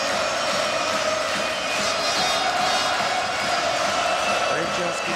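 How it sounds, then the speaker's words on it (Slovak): Crowd in an ice hockey stadium at a Slovak league final between Dukla Trenčín and an opponent keeps up a dense, steady roar of chanting and clapping, with a commentator talking over it. "Trenčianským štadiónom znie chorál a neustály skandovaný potlesk."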